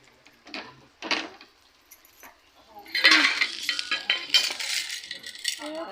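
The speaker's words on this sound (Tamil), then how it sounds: "இப்போது இதை ஒரு பாத்திரத்தில் நம்ம கொட்டிக்கலாங்க." Food is tipped from a container into a metal cooking pot in a home kitchen, giving scattered light clinks that build into a sustained, fairly close rattling clatter as it lands.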